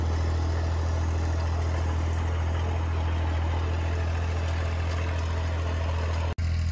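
A tractor working a farm field to prepare soil for winter, giving a steady low engine drone with a constant hum and rumble, running continuously and fairly close without pause.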